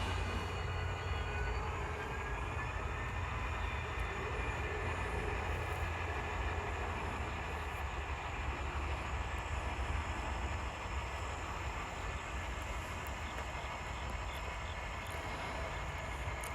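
An N scale model locomotive, a Western Maryland GP40, switching cars at Chillicothe on a layout, with a steady low whirring rumble of the small motor and track noise running evenly throughout, fairly quiet with no talk.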